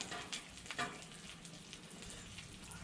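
Eggs broken and stirred on a Blackstone griddle, a faint, steady sizzle with a few light spatula taps early on, heard from a little distance.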